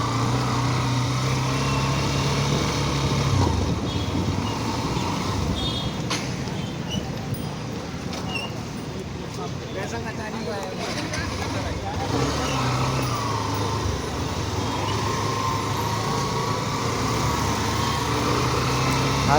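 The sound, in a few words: motorbike engine while riding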